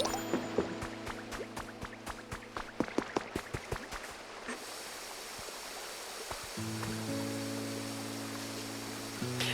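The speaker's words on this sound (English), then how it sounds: "Made the shower. Now I can splash around water whenever I want." Shower water splashing in the Pokopia video game, a steady stream of running water that sets in partway through after a run of game chimes and plucked notes, with a sustained music tone on top near the end.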